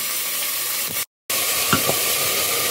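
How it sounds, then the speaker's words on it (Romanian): Chopped vegetables for a potato soup with chicken sizzle steadily in a hot pan, a loud close frying hiss that drops out briefly before resuming, with no talking. "am pus aici totul la prăjit"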